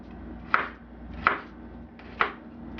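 A sharp knife chopping garlic on a board, three crisp, evenly spaced chops about three-quarters of a second apart, close and clear with no talking.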